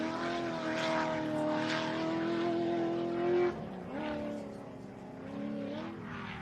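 A race car roars over the centre jump at the Pines Enduro, a sustained loud engine note rising in pitch, then dropping sharply as it lands and carries on, with a commentator talking over it.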